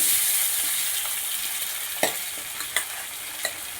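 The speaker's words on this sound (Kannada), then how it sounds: "ಇದಕ್ಕೆ ನಾವು ಆಲ್ರೆಡಿ ರೆಡಿ ಮಾಡಿ ಇಟ್ಕೊಂಡಿರೋವಂಥ ಚಿಕನನ್ನು ಅದಕ್ಕೆ ಹಾಕಿ ಮಿಕ್ಸ್ ಮಾಡ್ಕೊಳ್ಳೋಣ" Chicken tipped into browned onions for chicken masala and stirred in a pan, a steady close sizzle of frying with several sharp scraping stirs near the end.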